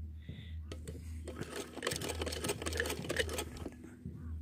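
Sewing machine stitching the button placket of a gents' kurta, a steady motor hum beneath rapid, irregular needle clatter that runs for a few seconds.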